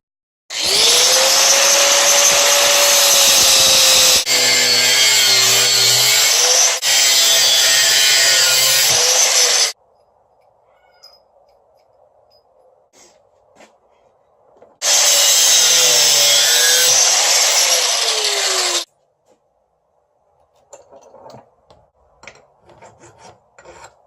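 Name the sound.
sawing a brass plate into pieces for a knife bolster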